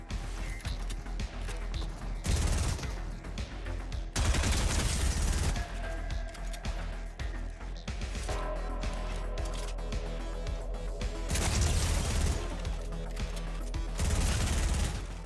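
Rapid P90 gunfire bursts in a Fortnite No Build fight, loud repeated volleys crackling over a dense game soundtrack with several sharp breaks in the shooting.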